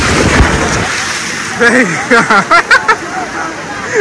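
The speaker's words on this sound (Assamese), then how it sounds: "এয়া ঢৌ আহিছে" A strong sea wave surging and washing up on the sand at Digha beach, a loud broad rushing roar up close that fades into a softer wash while people talk over it.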